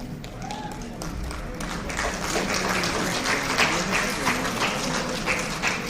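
A crowd claps at a college freshers meet at Haflong Government College, the applause swelling from sparse hands into a full, steady ovation, with a voice speaking over the start.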